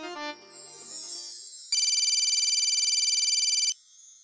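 An outgoing phone call rings on the line: a steady electronic ringback tone sounds for about two seconds after background music fades, then cuts off abruptly.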